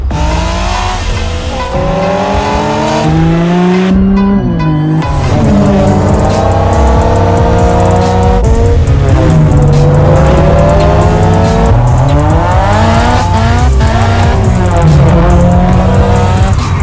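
A pack of race cars in The Crew Motorfest, engines loud and close, revving up and down through gear changes with tires squealing and skidding, a dense roar with a brief dip near the start.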